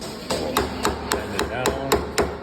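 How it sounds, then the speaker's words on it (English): Steady hammer blows flatten a sheet metal plate for a twig stove Pittsburgh seam, about eight sharp metallic strikes in an even rhythm, close and loud with no talking. "hammer this piece of plate until it's nice and flat"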